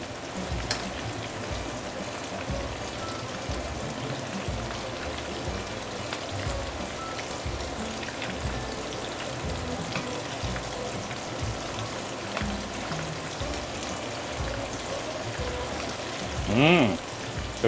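Pork ribs deep frying in hot oil, giving a steady, dense crackle and hiss that carries on evenly and close by, with a brief voice near the end.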